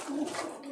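A Kamgar pigeon coos close up, a short throaty rolling call standing clearly on its own.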